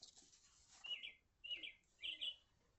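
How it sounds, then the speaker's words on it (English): An Audubon Society bird clock plays a recorded bird song: three short, bright chirping phrases in succession, faint and thin, with a quiet room behind them. "is that the bird clock?"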